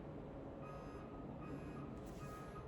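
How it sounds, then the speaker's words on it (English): Faint vehicle reversing beeps drift in from outside, a repeating electronic tone heard at a distance under a steady low rumble of background noise. "There's like beep, beep, beep going on outside."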